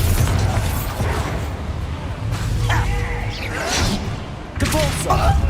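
A Bombarda explosion spell in the game Hogwarts Legacy: several booming, crashing impacts with whooshing bursts and mechanical clatter, arriving in separate hits over a dense game backdrop.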